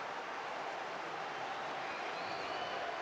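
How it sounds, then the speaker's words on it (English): Stadium crowd applauding at a Super League rugby match between Hull FC and Leeds Rhinos, a steady broad wash of clapping and crowd noise that holds at an even level throughout. "And this crowd showing their appreciation."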